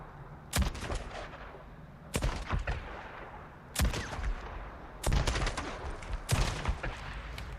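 Unsuppressed gunfire aimed at a bear in the video game Days Gone, heard as five loud, sharp bursts of rapid shots, each cluster separated by roughly a second of quieter background.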